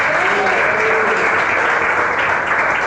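A church congregation claps loudly and continuously during a sermon, a dense, even wash of applause heard close with no pause.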